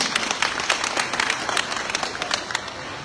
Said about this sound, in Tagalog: Sir, palakpakan tayo na po ni Mayor.